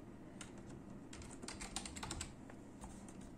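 Rapid typing on a computer keyboard while writing Arduino code, a close, quiet flurry of clicking keystrokes that thickens in the middle and thins toward the end.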